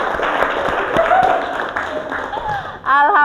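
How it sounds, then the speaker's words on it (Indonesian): A class of students claps together, a short burst of applause heard under a teacher's voice. "Tepuk tangan buat semuanya"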